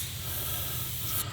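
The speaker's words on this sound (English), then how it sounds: "So now we're going to apply the spray." A sprayer lets out a short, close, airy hiss as it applies full-strength cleaner in one continuous burst.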